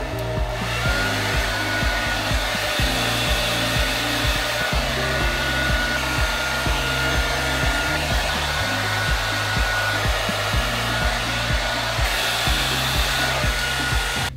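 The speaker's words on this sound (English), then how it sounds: "let's get the hairdryer on a cool setting." A hairdryer blows steadily on its cool setting throughout, a loud, close, constant whirring rush with a low motor hum and no one speaking.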